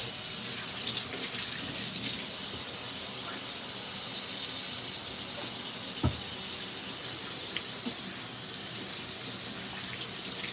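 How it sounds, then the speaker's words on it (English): Running tap water pours steadily into a sink as hands are washed, a continuous close hiss and splash lasting throughout with no talk. "Washing hands again."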